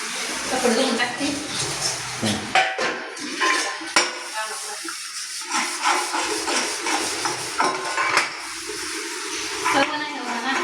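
Dishes and pots being handled and washed in a home, irregular clanks and scrapes of metal utensils close by, with someone talking between them.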